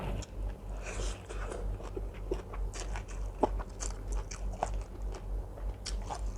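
Crispy pork rinds being bitten and crunched, served alongside a Thai coconut-milk noodle dish, with brief sharp crunches scattered over a steady low background and no talk.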